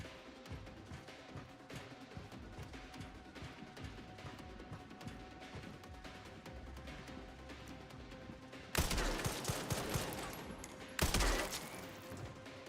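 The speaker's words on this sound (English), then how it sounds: "the shooting in this is really OP" Gunfire in the video game Resident Evil Requiem, rapid repeated shots crackling over a dense rumbling game soundscape, with two louder bursts of blasts near the end.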